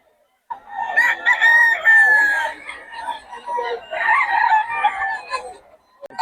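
A rooster at a gamecock gathering in Bocaue crows close and loud with a long wavering call, followed by a second rougher crowing phrase, with faint voices underneath.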